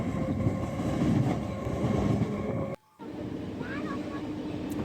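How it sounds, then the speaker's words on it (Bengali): A passenger train runs steadily along the rails, heard from inside as a dense, continuous rumble that briefly cuts out before resuming. "ট্রেন ছুটে চলেছে তার গন্তব্যের দিকে।"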